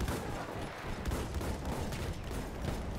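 Sustained automatic fire from a sentry kit machine gun in Battlefield 1 multiplayer rattles on continuously for the whole stretch, dense and rapid, set against a busy battlefield din with no pause.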